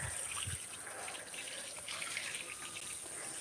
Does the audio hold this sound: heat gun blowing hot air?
no